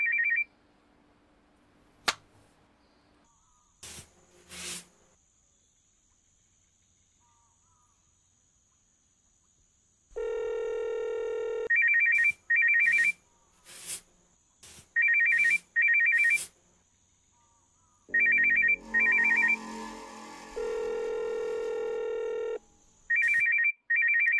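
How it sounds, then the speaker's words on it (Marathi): A telephone rings repeatedly in a scene from a Marathi thriller TV serial: loud electronic ringtone bursts that recur at steady intervals with short gaps, and no one speaks over them. "वाजत राहू दे. ठेव इथे फोन."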